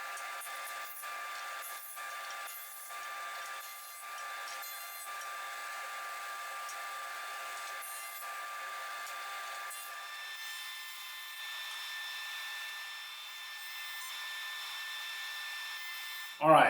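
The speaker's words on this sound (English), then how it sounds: "After that, it's the planer." A thickness planer running on wooden offcuts, a steady high whine with hissing cutter noise as pieces feed through, fairly faint and continuous, ending with a brief knock.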